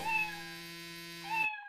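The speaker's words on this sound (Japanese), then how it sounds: "着信音を猫の鳴き声にしちゃった。" A phone ringtone set to a cat's meow plays in an anime scene: two clean, tonal electronic meows, one at the start and one near the end, with a steady ringing tone between them before it cuts off.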